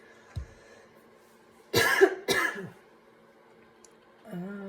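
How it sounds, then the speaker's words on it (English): A couple of harsh coughs followed by throat clearing, close and loud, separated by brief quiet with a faint hum in the background. "I have a sneeze and a cough stuck"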